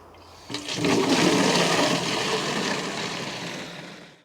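A hose sprays water steadily over plants on a UK allotment in July. A broad, even rush comes in sharply, holds for several seconds up close and then tails off.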